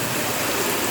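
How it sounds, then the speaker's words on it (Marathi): Heavy rain pours down steadily during an outdoor monsoon downpour on an Independence Day outing, a dense, continuous hiss with no talking. "गाइस पाऊस जोरात आला"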